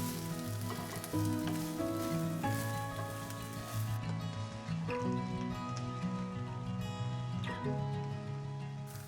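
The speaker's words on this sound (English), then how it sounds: "Green beans. Saute for 3 to 4 minutes." Green beans sautéing in a pan for a tomato ramen noodle stir fry sizzle with a steady hiss that runs throughout beneath prominent background music.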